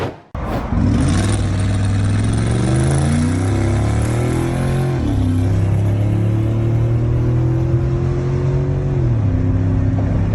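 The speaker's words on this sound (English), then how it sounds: "the video shows Lynch speeding away" A car speeds away from police during a traffic stop: after a brief thump, a loud, close engine revs hard and holds a steady roar, its pitch climbing and shifting through gear changes.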